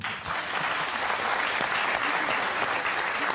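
An audience applauds steadily, a dense wash of clapping from a large crowd throughout.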